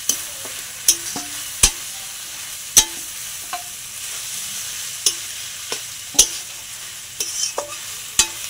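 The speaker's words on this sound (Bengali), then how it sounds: "সয়াবিনটা পেঁয়াজ আর রসুনের সঙ্গে একটু কষিয়ে নিতে হবে।" Soybean paste being stir-fried with onion and garlic in a pan, a soft continuous sizzle punctuated by sharp, regular clacks of a spatula against the pan, heard up close with no speech.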